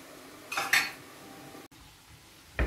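A utensil scrapes and clinks against a pot of rice a couple of times in short, quiet bursts, with a faint sizzle in the background.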